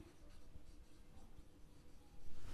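Pen writing by hand on paper for an accounting journal entry narration, a steady soft scratching with small strokes, close and continuous, no talking.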